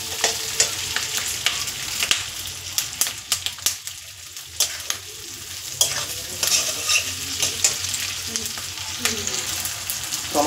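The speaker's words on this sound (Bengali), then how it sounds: "এটা 3 থেকে 4 মিনিট একটু সটে করে নেব।" Chicken sautéing over a high gas flame for a chili chicken dish, with a steady loud sizzle and rapid scraping stir strokes throughout, no talking.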